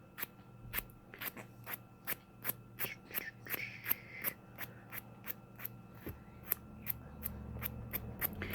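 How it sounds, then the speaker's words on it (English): Scissors trimming a sparkle nail wrap along the nail edge at a slight downward angle give a steady series of sharp, close snips, roughly two or three per second, with a faint low rubbing underneath and no talking. "I'm going to trim at an angle, at a very slight angle, in a downward motion only"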